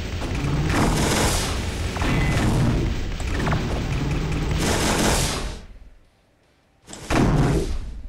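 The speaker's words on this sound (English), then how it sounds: "People are shooting at me." Loud gunfire and booming blasts from the shooting video game Gunbot fill several seconds continuously, drop to near silence briefly, then burst back in heavily.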